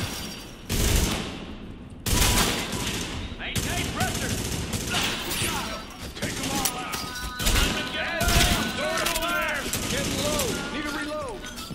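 Rapid bursts of automatic gunfire ring out during a firefight in the PC video game The Division, with shots coming in clustered volleys alongside other game sounds.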